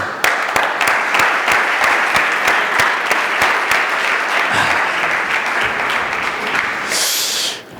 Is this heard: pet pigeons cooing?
no